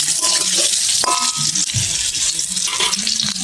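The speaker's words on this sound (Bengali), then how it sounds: "আলুগুলো ভালো করে নেড়ে চেড়ে ভেজে নেব।" Boiled potatoes fry in hot oil in a pan, a loud continuous sizzle close up, broken by scraping clinks of a spatula as they are stirred and turned.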